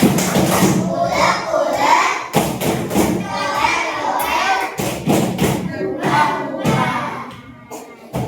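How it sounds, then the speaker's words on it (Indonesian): Children in a classroom doing a rhythmic clapping chant, with bursts of group claps and thumps broken by short pauses and mixed with excited young voices shouting along. "Oke, coba tepuk sambal."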